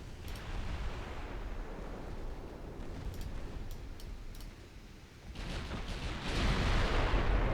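Heavy fire poured onto a destroyer in a Brazilian naval campaign war game, with dull booming artillery and gunfire thumps rolling continuously, a few sharp cracks among them, and a louder surge near the end.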